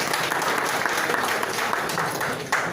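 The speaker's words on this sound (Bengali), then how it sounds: "জোরে একটা করতালি।" A crowd at a showroom inauguration breaks into loud, dense clapping that holds steady for a few seconds, close and continuous.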